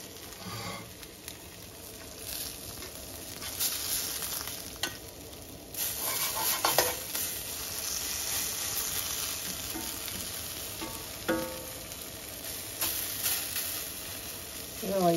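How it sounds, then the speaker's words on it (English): Seeds toasting in a black wrought iron frying pan over heat, with quiet sizzling and repeated scraping and stirring strokes as they are moved around, soft and close. "I just toast these seeds lightly"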